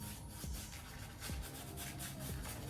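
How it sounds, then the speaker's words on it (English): A shaving brush works soap lather across a stubbled face in quick, soft, repeated scrubbing strokes, close-up and fairly quiet. "So I'm going to lather up my face"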